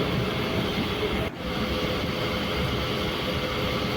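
A MEMU train runs at night between Punalur and Kollam, a continuous loud rumble and rattle from inside the carriage, with one short sharp knock partway through.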